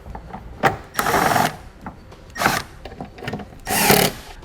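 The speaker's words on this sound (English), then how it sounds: "we'll just push our taillight back into place and resecure the 2 screws that we" Screws being driven back in to secure the taillight assembly on a 2019 Ford Flex, heard as several short bursts of a power driver whirring close by, separated by brief pauses.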